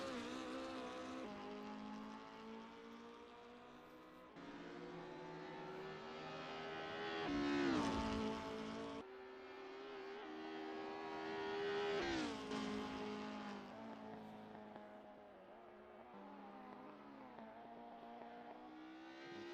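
Alfa Romeo race car with a small 2-litre naturally aspirated engine in a 90s BTCC racing game, Croft circuit: a high, buzzing engine note climbing through the gears with sharp shifts and repeated rises and falls, heard alone.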